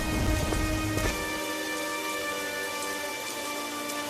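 Heavy rain pours steadily onto surfaces with a low rumble of thunder rolling underneath at first, then fading, leaving a dense, even hiss of rainfall on its own.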